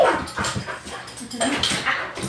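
A dog named Zahara at an animal shelter whimpers and gives short yips and barks close by, with a person talking at times.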